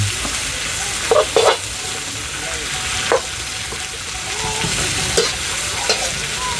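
An egg stir-fry in a hot pan, loud continuous sizzling with a few spatula scrapes and clacks throughout, no voices.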